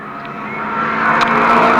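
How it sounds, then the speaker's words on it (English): Terry Spooner's 406 race car engine at Fleet Raceway, a steady loud drone that builds slightly in volume as the car draws nearer, with no talk over it. "That car sounds very, very powerful at the moment."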